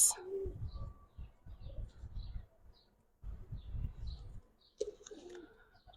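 Giribaz and coloring pigeons coo softly nearby in low, rolling bursts repeated several times with short pauses, joined by faint chirps.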